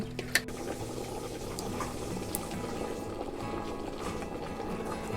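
Beef bhuna for Eid cooking in a pot on medium heat, with a continuous bubbling simmer and soft sizzle, plus one or two brief clinks; close, steady and fairly quiet, with no voices.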